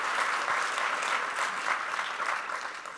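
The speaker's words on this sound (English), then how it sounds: "Big round of applause." A large audience applauds at a business talk on purpose over profits, a dense, steady wash of clapping that continues without a break.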